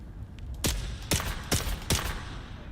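Four pistol shots fired in Dune: Awakening, sharp loud cracks spaced about half a second apart over a low windy desert background.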